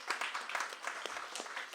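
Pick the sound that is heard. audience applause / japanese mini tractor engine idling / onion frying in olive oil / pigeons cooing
audience applause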